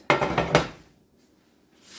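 A couple of quick clinks and knocks as sprayed glass casserole dishes are handled in a home kitchen while baking a prune cake, close and fairly sharp, followed by quiet.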